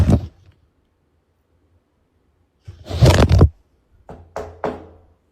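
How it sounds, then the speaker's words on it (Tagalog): Knocking in a quiet room: a first rap, a long silence, then a heavier cluster of knocks followed by three sharp, separate raps, fairly close. "Katok ka pa ng katok eh."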